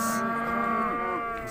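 A single cow lets out a long, loud, close moo at a livestock market, with the call lasting nearly the whole moment and no talk over it.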